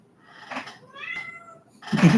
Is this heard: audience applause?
no